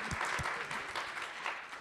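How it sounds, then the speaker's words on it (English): Audience at a New School lecture panel applauding, a dense wash of many hands clapping together, steady and moderately distant throughout. "before we clap for Anna"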